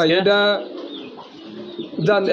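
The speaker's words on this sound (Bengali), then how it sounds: "আপনার মোটা শেপের কবুতর, মোটা ঠোঁটের কবুতর" Thick-bodied, thick-beaked Dragon and Beauty Homer pigeons coo close by in throaty, rolling bursts, one at the start and another near the end, with soft murmuring between.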